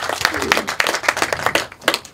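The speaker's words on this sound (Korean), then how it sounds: "배시아 작가한테 큰 박수 한번 좀 부탁드리겠습니다" A small audience at a film screening talk claps for an artist, with distinct, uneven hand claps close by and a voice speaking over them.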